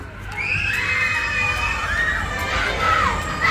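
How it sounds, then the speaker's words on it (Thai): Many people scream and shriek together with a steady roar underneath, sustained and loud throughout, like riders on a fast amusement ride at Siam Park, Bangkok. "ข้างหลังกรี๊ดเสียงดังมาก"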